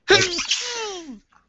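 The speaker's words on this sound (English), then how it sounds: "That is not a very exciting sneeze" A single held-back sneeze, a brief stifled burst followed by a falling nasal exhale, close and fairly loud, with nothing else around it.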